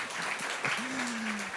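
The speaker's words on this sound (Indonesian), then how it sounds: "Kasih tepuk tangan dong buat Tuhan yang luar biasa." A church congregation applauds in a dense, steady wash of clapping, with a voice speaking over it near the end.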